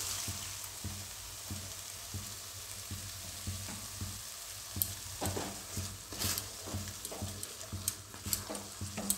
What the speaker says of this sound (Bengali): একটু সামান্য জল দিচ্ছি, এটা মশলা ধোয়া জলটা।